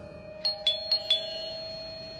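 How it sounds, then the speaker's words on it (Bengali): A doorbell rings at a front door in an audio story, four quick chimes in a row, clear and ringing, then a steady hum carries on with no one talking. "তারপর কলিং বেল বাজালাম।"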